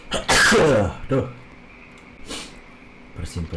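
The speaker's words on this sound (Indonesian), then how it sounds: "bersin kalau kena angin" A single loud, sharp sneeze bursts out near the start inside a Japanese-built tunnel, followed by quieter snorts and breaths against a hollow background.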